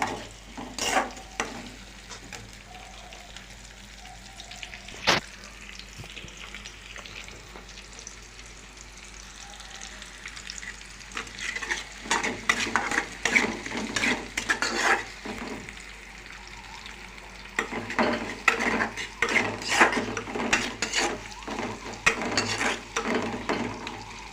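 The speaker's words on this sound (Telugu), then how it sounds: "ఉల్లిగడ్డలు ఎలా మగ్గుతున్నాయో ఒకసారి మీరు చూసుకోండి" Onions for a Telangana-style chicken curry fry in a pan with a steady sizzle. Bursts of stirring and scraping come in two busy stretches, and no one speaks.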